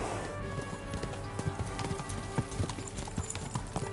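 Horses gallop in Kingdom Come: Deliverance 2, with steady overlapping hoofbeats pounding throughout alongside faint distant shouting.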